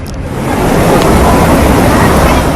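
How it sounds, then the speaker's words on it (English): Heavy rain and rushing flash flood water make a loud, steady broadband roar, dense and continuous throughout with no voices over it. "Heavy rain."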